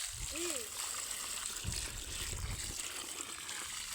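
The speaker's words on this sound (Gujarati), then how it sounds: "હાલો આપણે પાણી નાખી દઈએ." Water pours from a bucket onto freshly sown soil, a steady broadband wash that runs through the whole stretch, with a few low splashy thumps and a brief bird call near the start.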